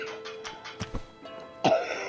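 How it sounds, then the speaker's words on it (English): A few muffled coughs in quick succession, the last one louder and harsher, over a faint steady background hum. "You may hear me coughing in the background."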